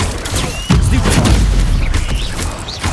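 A Stupefy spell cast in Hogwarts Legacy, sounding as a sharp, loud magical blast with a booming impact, surrounded by dense crackling combat effects and whooshes during a fight.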